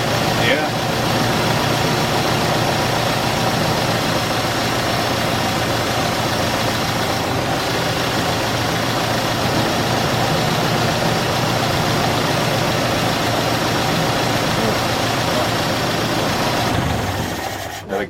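A Ford 8N tractor engine idles steadily after startup, a constant low, rough, muffled hum from a plugged exhaust that stays even for the whole stretch.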